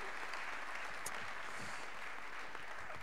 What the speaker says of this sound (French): On peut applaudir l'ensemble des participants à cette table ronde.